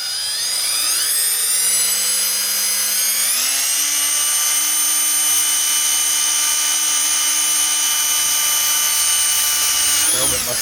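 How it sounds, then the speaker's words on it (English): An old Harbor Freight drill bit bores into a Duraflex overfender held in a vise, a continuous high power-drill whine that rises in pitch partway through and holds steady, loud and close. "Drill bit must be dull"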